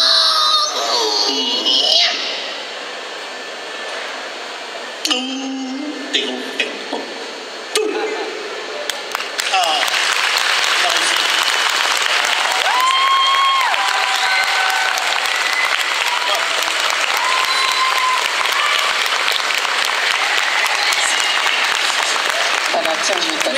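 Sustained applause from an audience at the Geek Days Winter event in Lille, starting with scattered talk and short bursts before swelling into dense, loud, continuous clapping with occasional cheers that holds steady to the end.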